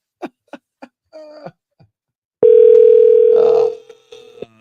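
Short clicks give way to a loud, steady single-pitch Google Voice call tone that holds for about a second before fading into brief noise and further clicks.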